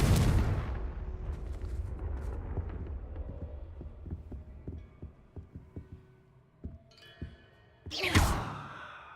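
A Confringo fire spell explodes in Hogwarts Legacy on PS5: a loud broadband blast opens, a run of sharp thuds and crackles follows, and a second heavy burst near the end fades off in a rumbling tail.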